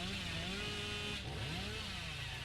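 Billy's chainsaw from the horror video game Dead by Daylight drones steadily with a revving, wavering engine tone throughout, loud and continuous with no talk.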